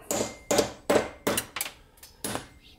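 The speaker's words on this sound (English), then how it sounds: "we're gonna use a smaller hammer." A small hammer strikes a glued 3D-printed PLA part in seven sharp, fairly regular blows, loud and close, with short ringing decay after each hit and no talking.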